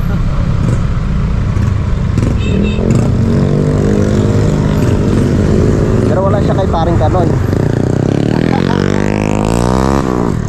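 A motorcycle running along a road, its steady engine drone and rumble close and continuous throughout, rising in pitch toward the end as it speeds up, with people talking over it.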